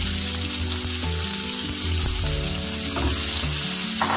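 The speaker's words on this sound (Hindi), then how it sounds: "करी लीव के तुरंत बाद ही हम इसमें अपने जो कटे हुए हमारे प्याज है वो डाल देंगे" Curry leaves and chopped onions sizzle steadily in hot oil for dhokla tempering, a loud continuous frying crackle with tonal hum and occasional stirring clinks underneath.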